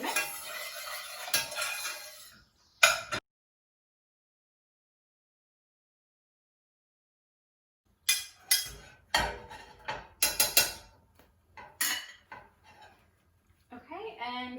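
A spoon stirs pasta and sauce in a pot, giving intermittent scraping clinks and knocks against the metal. Brief bursts of sound open the clip, followed by a long silent gap, then a cluster of sharper clatters.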